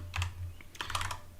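Someone types on a computer keyboard during a programming session, a burst of crisp clicks followed by a quick second flurry of keystrokes. The clicks are moderately close over a low steady hum, with no talking.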